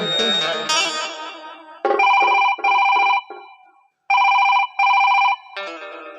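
A telephone rings during a North Karnataka rural comedy stage play: loud electronic bell bursts repeat in an even on-off pattern after a brief musical flourish, with no talking.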